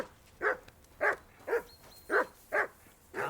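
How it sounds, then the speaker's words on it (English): A dog in Kingdom Come: Deliverance II barks again and again, six evenly spaced, moderately loud barks about half a second apart, with nothing else over them. "I assume you can hear that damn dog of yours barking."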